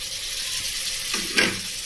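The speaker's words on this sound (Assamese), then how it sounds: "এতিয়া আমখিনি মছলাটো দি দিম।" Mango pieces go into spices frying in oil for a pickle, bringing a short, sharp burst of sizzling over a steady low frying hiss, close by, with no talk.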